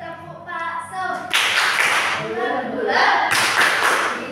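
Group of people clapping rhythmically in unison during the 'tepuk bakso' ice-breaking clap game, claps in bursts mixed with chanting voices and talk, fairly loud and close.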